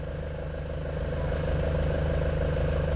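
A Nissan Frontier pickup with a noisy clutch idles in a workshop, giving a steady low engine drone with faint repetitive clatter, close and continuous throughout.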